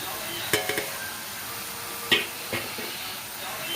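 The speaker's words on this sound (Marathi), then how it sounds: "कांदा आणि टमाटा मस्त तेलामध्ये आपल्याला भाजून घ्यायचा" Onion, tomato and spices fry in oil in a pan, giving a steady close sizzle with a few sharp clinks and scrapes of a spoon stirring against the pan.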